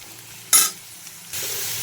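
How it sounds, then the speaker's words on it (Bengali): Potatoes frying in a pan with garlic, a hot sizzle that bursts up loudly for a moment and then settles into a steady, close hiss. "আর সামান্য একটু ভাজবো।"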